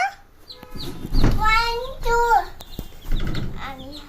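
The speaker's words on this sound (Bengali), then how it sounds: "কটা মুরগির বাচ্চা বাবা?" Several high, thin cheeps from chicken chicks in short bursts, close by, mixed with a voice talking between them.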